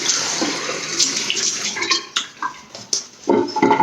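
Tap water runs steadily into a bathroom sink while a razor is rinsed under it, the flow interrupted now and then by splashes, knocks and shifting gurgles, close and fairly loud.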